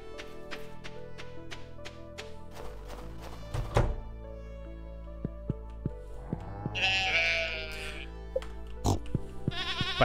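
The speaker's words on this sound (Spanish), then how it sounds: "Parece muy bebé la oveja" A sheep bleats in Stardew Valley, short synthetic bleats rising over a game music track with tapping thunks and brief bursts, repeated across the stretch.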